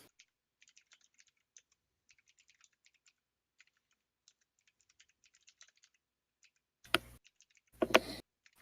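Soft, quick keystrokes on a computer keyboard tap in irregular bursts at a quiet, close level, followed by two short louder noise bursts near the end.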